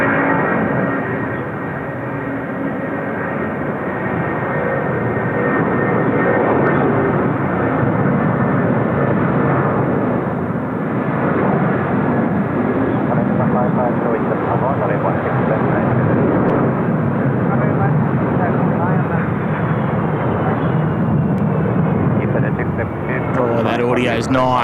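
Korean Air Airbus A330 arriving from Qingdao at Seoul Incheon Airport, its jet engines a steady, loud broadband roar throughout, with a voice talking over it much of the time.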